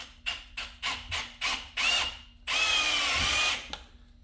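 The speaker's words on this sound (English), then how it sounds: "We're gonna just bolt this baby down, lock her in place" A power tool drives bolts into a body mount while a 1951 Chevy body is fitted to a C10 chassis: several short whirring bursts in a row, then one longer sustained run, loud and close with no talking.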